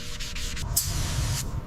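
Body filler being hand-sanded on a Porsche 911 GT3, with close, steady abrasive rubbing strokes in a quick back-and-forth rhythm.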